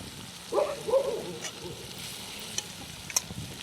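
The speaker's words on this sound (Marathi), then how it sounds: "चांगली मिरची तळून घेतली त्याला हळद टाकून घेते" Chillies frying in hot oil with turmeric being added, a soft sizzle with a couple of stirring scrapes near the start, then quieter crackle and a few sharp clinks of utensils.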